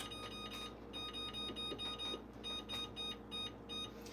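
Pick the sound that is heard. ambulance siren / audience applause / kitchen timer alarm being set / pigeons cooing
kitchen timer alarm being set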